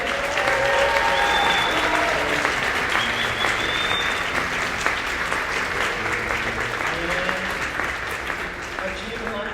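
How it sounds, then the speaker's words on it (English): Sustained audience applause for a middle school 6th grade band at a school concert, a dense steady wash of clapping from a large crowd lasting throughout, with faint voices mixed in. "How about a round of applause for that?"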